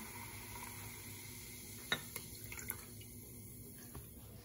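Coca-Cola poured into a measuring cup fizzes softly as a steady, faint hiss with a few small pops and crackles near the end.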